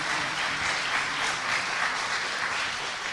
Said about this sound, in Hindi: एक बार सब मिलकर ताली बजाओ